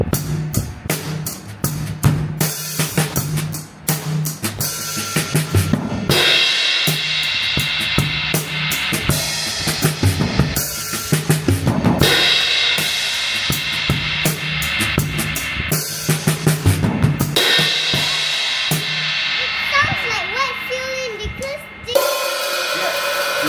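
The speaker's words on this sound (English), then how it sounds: "Wet fill-in sounds like this." Busy drumming with fills washed by ringing cymbals and open hi-hat, a sustained shimmer beneath the hits, with brief talk near the end.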